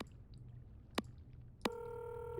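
A phone in the Nancy Drew game Labyrinth of Lies is dialed, giving two short sharp keypad tones followed by a sustained steady electronic ringing or connecting tone over a faint background hum.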